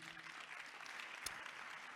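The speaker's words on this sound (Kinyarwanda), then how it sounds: "munyemere twakongera tugakomera Imana amashyi" Church congregation applauding during a sermon, a steady, dense wash of clapping from many hands that runs without a break, with one sharper clap standing out near the end.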